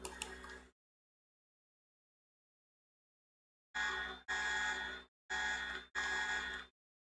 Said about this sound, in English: this is why alarm is constant